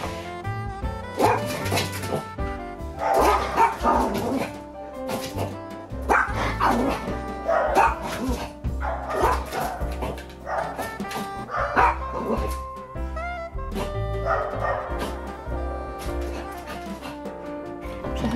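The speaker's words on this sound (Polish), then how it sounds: "poszedł dalej sobie szczekać" A dog barks repeatedly in a loud, close series of yips and bow-wows, with occasional whimpers, continuing for the whole stretch indoors.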